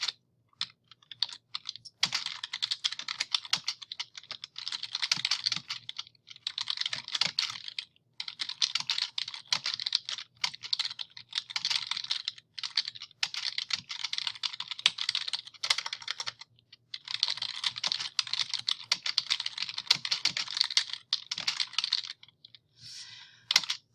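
Rapid typing on a computer keyboard, bursts of crisp key clicks with short pauses between phrases, close and clear in a quiet room, entering a citation into a word processor.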